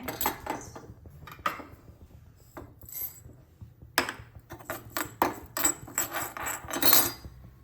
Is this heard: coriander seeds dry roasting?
yes